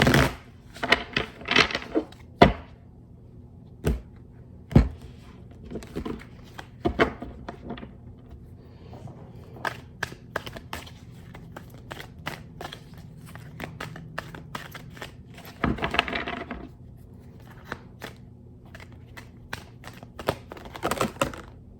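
Tarot cards shuffled repeatedly in sharp riffling bursts with scattered taps and clicks, close by and fairly quiet, with no talking.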